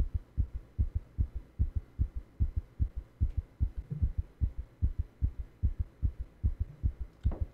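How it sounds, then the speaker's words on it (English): A steady heartbeat thumps through a room in the video game No Escape, with evenly spaced double beats repeating close and clear for the whole stretch, no voices over it. "Why is there just a heartbeat in this room?"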